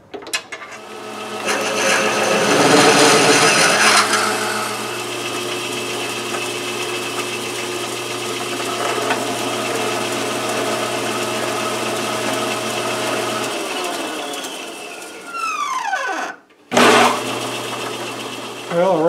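A 9/16 drill bit cuts on an RF30 mill-drill, a sustained machine whine and hum with louder cutting noise early on, then the motor winds down and stops before briefly restarting.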